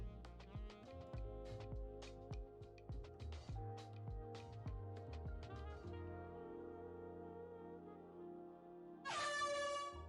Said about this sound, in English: thank you for the honk. That one was very loud.